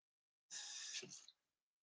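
An acidity tester gets a short burst of rinsing water from a tap or spray, a single hissing gush under a second long, close and alone.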